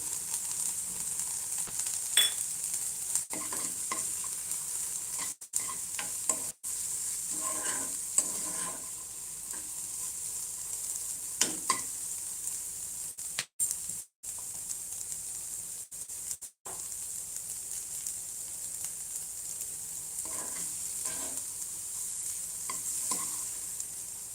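Finely chopped carrots sizzle steadily in a pan for a pizza paratha, with a soft continuous frying hiss broken by repeated scraping stirs of a spoon against the pan. No voices are heard.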